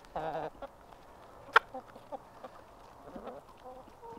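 Chickens in a backyard coop cluck close by, a loud squawk at the start followed by scattered softer clucks and murmurs in a quiet setting.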